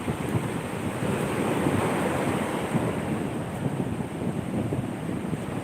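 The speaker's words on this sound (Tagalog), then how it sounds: "At yung hangin nitong dagat." A steady, unbroken roar of wind and surf at the seashore, waves washing continuously with wind buffeting the microphone.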